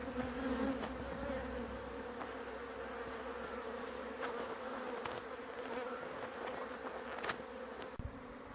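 Honey bees swarm around a hive salvaged from a fallen tree, a dense, steady drone of many wings close by, with individual insects zipping past the microphone now and then.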